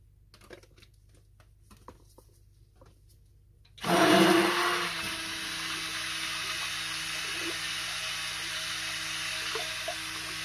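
A stick blender switches on partway through and whirs steadily through avocado and clay milk soap batter, loud and close after a quiet stretch of light tapping.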